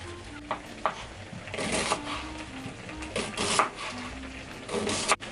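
A spoon scrapes and stirs through thick zucchini caviar in a cooking pot, giving repeated soft scraping strokes over a low sizzle, close and moderately quiet with no talking.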